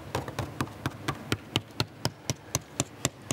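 Steady rapid tapping on a cherry-stained lacquered DW Design Series drum shell with chrome hardware, about five even taps per second, close and dry with a low resonant undertone.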